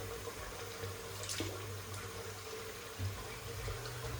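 Water running from a tap into a sink or bowl before wet shaving, a steady close splashing stream with a couple of brief gurgles.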